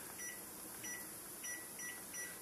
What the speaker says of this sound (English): set your microwave